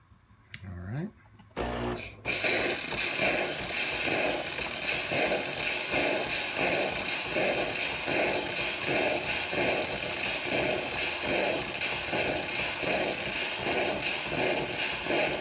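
A Krups super automatic coffee machine runs steadily and loudly, grinding and pumping with a rhythmic pulsing after a few short clicks and starting noises.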